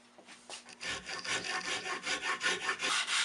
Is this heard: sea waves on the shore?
no